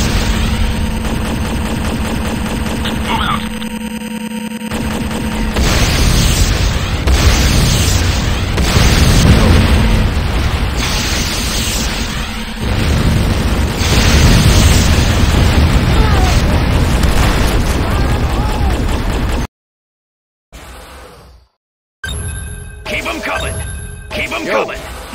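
Explosions from an attack on a barracks in C&C Renegade, loud repeated booms and bursts over a constant engine-like rumble, with brief gaps near the end and voices talking at times.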